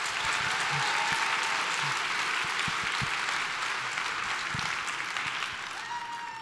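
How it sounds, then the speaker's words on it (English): A crowd applauds steadily and loudly throughout, a dense wash of clapping that tapers slightly toward the end. "Give them a round of applause."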